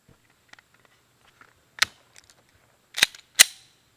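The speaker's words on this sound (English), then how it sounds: "we'll go ahead and just shoot 10 rounds of these" Several sharp 9mm +P pistol shots firing Speer Gold Dot rounds, a few loud isolated cracks spaced apart with faint pops between, heard without talk.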